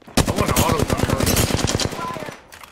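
Automatic gunfire in the Apex Legends battle royale game: a long, fast burst of rapid shots runs for about two seconds and then cuts off.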